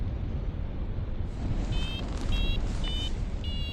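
A paragliding variometer beeps in flight over the Bolivian Andes, four short regular high-pitched tones heard faintly through loud steady wind rush.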